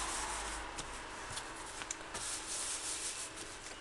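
A tea towel rubs rinsed runner beans dry in a continuous, close, steady brushing scrape with small scuffing bursts, alone without talk.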